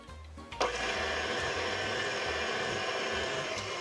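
Flour, sugar and baking powder being mixed in a mixing bowl: after a soft start, a steady motor-like whir kicks in abruptly and runs evenly to the end, close and fairly quiet, without talk.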